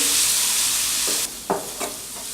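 Paneer modak mixture roasting in a pan, a soft steady sizzle with a few scraping stirs of a spoon across the pan near the end.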